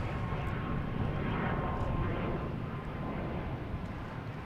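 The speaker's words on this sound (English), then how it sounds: "JetBlue coming in from Detroit, A220, flight 1336." A JetBlue Airbus A220 inbound from Detroit comes in to land at Boston Logan Airport, a steady broad jet roar that stays loud throughout with no talk over it.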